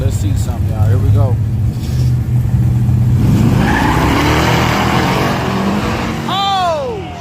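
Street drag race cars launching side by side, engines roaring and tires squealing as they pull away, loud and close, with excited spectators talking and shouting over it.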